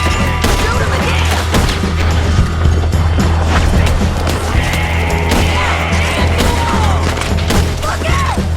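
Dense, continuous shootout from a Western video game, a steady barrage of overlapping gunshots and booms over a loud low rumble, with no clear pauses across the whole stretch.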